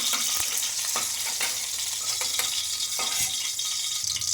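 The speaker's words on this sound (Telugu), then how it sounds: "ఈ మిర్చి బాగా ఫ్రై చేసుకోవాలి" Green chillies sizzle steadily in hot oil, a dense continuous crackle with a few sharper scrapes of a spoon stirring them through the pan, close and fairly loud with no voices.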